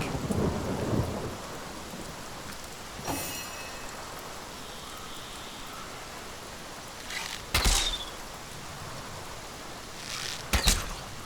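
Heavy steady rain from a water spell in Divinity: Original Sin, with several sharp thunder cracks breaking through at intervals over a constant wash of falling water.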